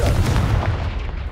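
Confringo fire spell exploding in the Hogwarts Legacy video game, a loud, close booming blast with a rumbling tail that fades over about a second.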